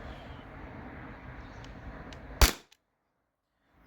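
A single sharp crack from a T4E P2P HDP50 Gen2 13-joule air pistol fired indoors cuts through low room noise, followed by a brief faint click and then near silence.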